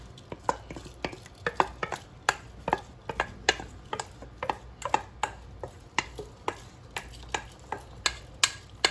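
A wooden spoon scooping from a pan of oven-baked BBQ chicken legs, a quiet series of regular knocks and scrapes about twice a second against a soft bubbling background.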